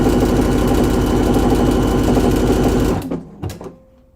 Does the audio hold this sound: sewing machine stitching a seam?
yes